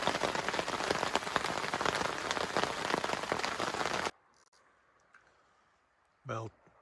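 Heavy rain pouring onto a river at night, a dense loud hiss of drops for about four seconds that cuts off to near silence, then a brief voice.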